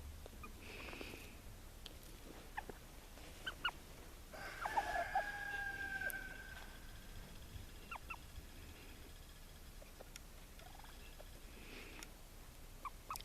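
Sumatra bantam chickens, a primitive breed, call faintly in a quiet yard; a brief crow sounds in the middle, with scattered soft clucks and chirps around it.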